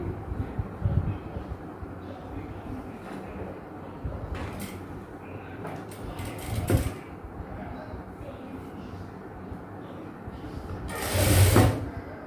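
A sewing machine stitching the lining of a silk blouse, short bursts of whirring stitches with pauses and a few clunks between them, moderately close, under someone talking.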